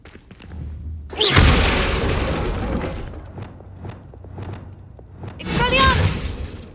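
Bombarda spell explosions in the video game Hogwarts Legacy: two loud booming blasts with rumbling tails, one near the start and another near the end, with spell effects and chatter between them.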